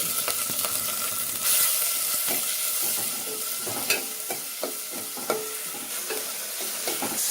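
Sliced onions frying in a few spoons of oil with cinnamon, cloves, cardamom and curry leaves, a constant close sizzle with repeated clicking stirs and scrapes from a spoon.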